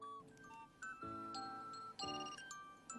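An alarm ringtone plays a short, bright chiming melody of several bell-like tones in steady steps, quiet and alone.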